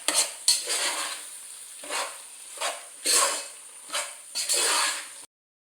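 Masala macaroni pasta is stirred in a pan, a series of close scraping, squishy strokes with light sizzling between them, ending abruptly in silence.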